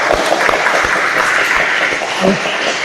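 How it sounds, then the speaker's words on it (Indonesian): Audience applause at a hydraulic brake repair class for motorcycle technicians fills the whole moment, a steady dense patter of clapping with a few louder claps and faint voices beneath. "Tepuk tangan."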